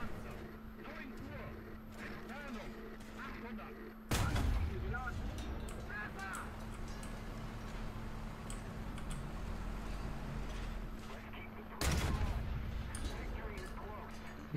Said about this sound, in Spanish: Veo a alguien disparar, pero no veo quién.